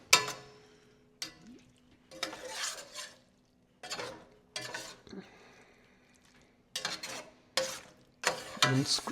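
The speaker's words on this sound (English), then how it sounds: "I'm scraping the bottom of the pan in case there are any bits stuck in there" A spoon scrapes and stirs across the bottom of a pan of beef stroganoff with broth, in several separate bursts of loud scraping and clinking divided by short pauses.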